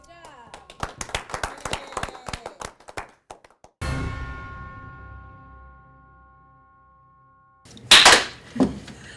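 Hands clap in a quick run of sharp, close smacks, followed by a ringing clang that fades out and a loud burst of noise near the end, with people talking.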